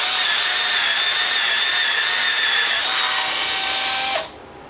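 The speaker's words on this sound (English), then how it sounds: "Drill holes in both boards 2 inches from each end for the screws going into the wall" A power drill boring screw holes through wooden boards, a loud steady high-pitched whine running continuously for about four seconds before cutting off abruptly.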